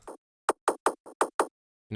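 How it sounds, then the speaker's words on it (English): Six short, punchy bass clicks in a quick, slightly uneven rhythm, each tight and percussive with almost no tail, alone and close. "basically is a bass, but I use this really short envelope"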